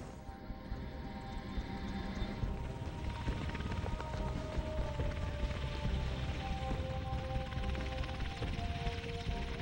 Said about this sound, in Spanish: Es sorprendente e intimidante el estilo del helicóptero.